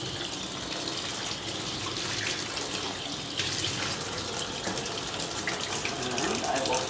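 Hot tap water runs steadily into a plastic wine fermentation bucket during rinsing, a continuous broadband splashing rush that holds at an even level for several seconds with no speech over it.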